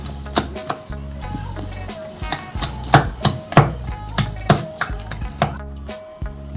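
Palm fruit pulp batter for fried palm fritters is beaten by hand in a bowl, making a near, rhythmic series of sharp slapping strokes roughly twice a second, with no talking.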